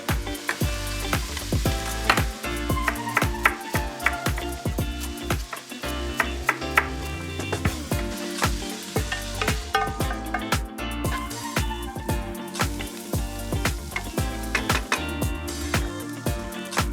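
Beef sizzles steadily as it browns in a pan for a ragu, a loud, dense frying hiss running the whole time with scattered crackles and pops, no voices over it.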